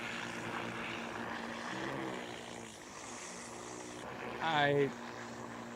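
A Freefly Alta drone hums steadily with a propeller drone throughout, joined by a brief louder whine near the end, while someone speaks over it.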